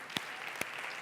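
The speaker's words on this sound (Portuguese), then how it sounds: "Vamos dar um aplauso ao Senhor pela vida deles." A church congregation applauds at a service, with a soft wash of clapping broken by a few sharp, distinct claps.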